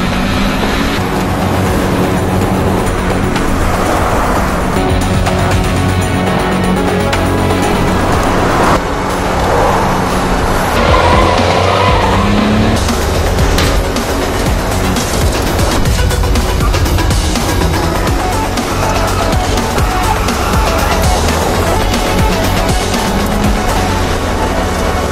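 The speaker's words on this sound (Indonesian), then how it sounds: "sang psikopat menggunakan mobil Joseph untuk mengejar Diana." A psychopath drives a stolen car in pursuit of a woman during a film chase, a continuous loud roar of engine and road noise with dense, rushing turbulence and no talk, sustained at full intensity throughout.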